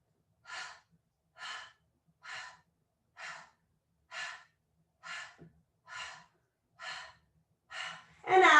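Nine evenly spaced breaths during a Pilates exercise, each a soft, airy huff about a second apart, close and quiet against silence, ending in a louder, more forceful exhale.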